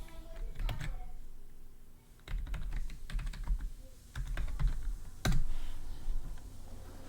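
Fingers type on a computer keyboard in quick irregular bursts of close, crisp key clicks, with brief pauses and a louder keystroke near the end, over a low background hum.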